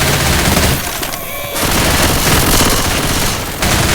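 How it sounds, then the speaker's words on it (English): Gunfire in the Left 4 Dead 2 video game: loud, dense volleys of rapid shots forming a near-continuous rattling barrage, with a short lull in the middle. "Why the hell y'all keep shooting me?"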